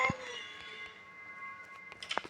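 A cat meows in a horror video game, one drawn-out tonal meow wavering over a soft background hum, followed by a couple of short, sharper meows at the end.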